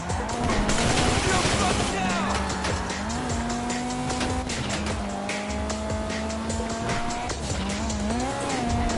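A car in Grand Theft Auto V revving hard with a loud, sustained tire squeal and shifting engine pitch, close and continuous, with in-game voices talking over it.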